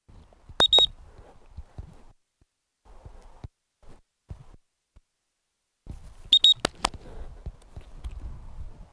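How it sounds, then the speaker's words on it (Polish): A whistle gives short, shrill signal blasts during fetch training with a puppy, one quick pair near the start and another pair several seconds later, with faint shuffling and quiet handling sounds between. "Sygnał gwizdkiem"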